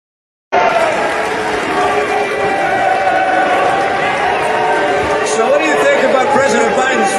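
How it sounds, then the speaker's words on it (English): A crowd boos and yells at a speaker at a podium, a loud, continuous roar of voices that starts abruptly and holds steady without letting up. "you can hear a loud chorus of booing and yelling"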